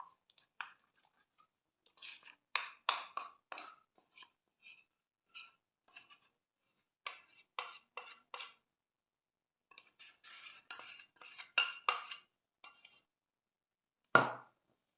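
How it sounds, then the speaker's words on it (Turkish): Cheesecake batter being stirred with melted biscuit cream, giving a run of quiet, irregular scraping and clinking strokes of a utensil against a bowl, in short bursts with pauses and a sharper knock at the end, no talking. "Şimdi hemen böyle üzerine ilave ediyorum bir karıştırıp."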